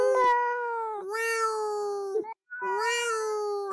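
A cat meows loudly and close by, giving three drawn-out, whining calls with a short gap before the last one, and no voices are heard.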